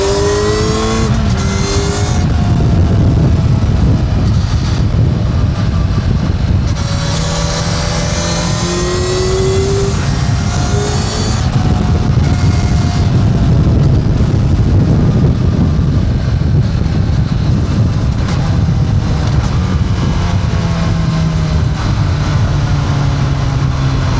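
A Kawasaki Ninja 1100SX motorcycle engine revs and accelerates up through the gears on the road, loud and close, with a continuous rising-and-falling engine note and steady road and wind roar throughout.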